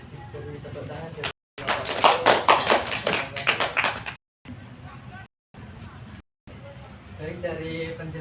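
A classroom audience at a microteaching lesson bursts into dense, lively applause that fills the middle of the clip, then thins into scattered clapping with pauses and a murmur of voices.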